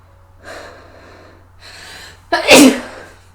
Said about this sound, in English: Y'all, I've got sneezes.